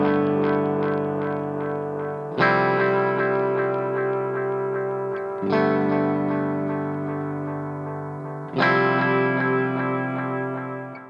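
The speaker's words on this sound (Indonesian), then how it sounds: "Yang kedua adalah tape echo." Electric guitar chords through the tape echo effect of a NUX Cerberus pedal, three sustained strums each smearing into warm repeating echoes that fade slowly, loud and alone.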